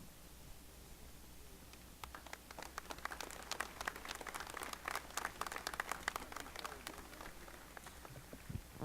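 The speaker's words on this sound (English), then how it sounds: "Absolutely deserve a round of applause" An audience at a National Heroes Day commemoration ceremony breaks into applause, scattered claps building into a steady, moderately distant patter that continues to the end.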